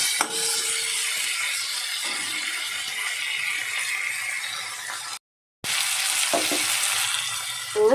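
Spices and tomato fry and are stirred in hot oil for a Bengali mourala fish curry, a steady close sizzle with a brief break and some clinks of utensils near the end.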